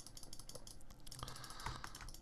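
A few faint, sparse computer keyboard key clicks over quiet background noise while editing in a computer program.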